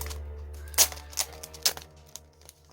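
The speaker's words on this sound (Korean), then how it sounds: "이렇게 드로잉 다이어리라고 있는데 이것 한번 뜯어볼게요" Packaging around a BTS drawing diary from the 2019 summer package is torn open with a few quiet, sharp crinkling and ripping bursts over a low steady background hum.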